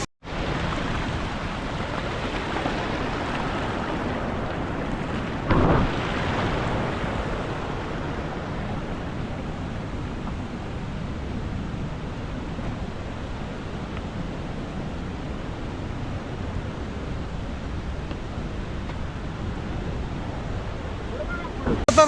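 A waterfall at Navaja (Ozarde) near Koyananagar roars in a steady, dense wash of broadband noise up close, with one brief louder burst partway through.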